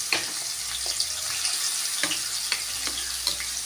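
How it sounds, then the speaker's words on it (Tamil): Elephant yam pieces frying in a few spoons of hot oil over a low flame, a steady close sizzle punctuated by light, regular clinks and pops. "போட்டு அடுப்பை சிம்மில் வச்சு கொஞ்சம் நேரம் அப்படியே வறுக்கணும்"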